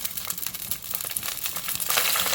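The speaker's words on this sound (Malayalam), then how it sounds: "വെളിച്ചെണ്ണ ഒഴിച്ച് കൊടുക്കുക. കറിവേപ്പില ഇട്ട് കൊടുക്കുക." Curry leaves crackle and sizzle in hot coconut oil, a busy, close spitting sound that swells slightly toward the end.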